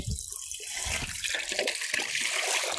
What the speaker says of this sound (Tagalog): Lagyan natin ng tubig ang kanyang lagayan ng tubig